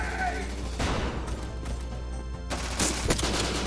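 Rapid bursts of gunfire in the game Bullet Force, several sharp shots in quick succession over a steady background hum.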